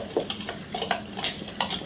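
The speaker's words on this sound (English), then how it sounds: "You just get this mixed up and then you mix it in with the onion mixture and the meat mixture." A utensil stirring a Tex-Mex cowboy casserole mixture in a dish, giving close, rhythmic clinks and scrapes of metal against the dish with no talking.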